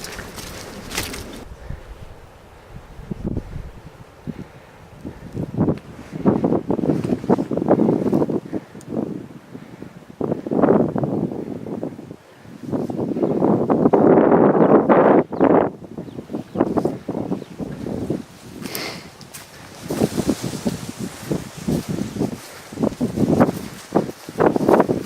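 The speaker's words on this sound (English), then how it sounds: "it is cold, it is windy" Strong wind buffets the microphone on a cold walk beside a ploughed field, a continuous roaring rumble that surges and eases in gusts, loud and close throughout.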